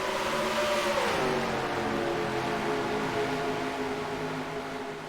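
Race car engines in the NR2003 racing game roar loudly together at a green-flag restart, their pitch dipping and then climbing steadily as the pack accelerates, a dense, continuous drone with no voices.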